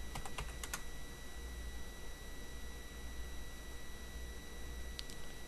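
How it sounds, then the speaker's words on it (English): Quick, faint keystrokes on a computer keyboard enter router commands, a short cluster at the start and a couple more near the end, over a steady low electrical hum. "We're going to type in EIGRP stub."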